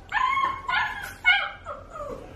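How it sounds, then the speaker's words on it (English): A puppy whimpering and yipping indoors, several close, high-pitched whines and yelps in uneven bursts with short pauses between them. "that sound you're hearing is the puppy making noise"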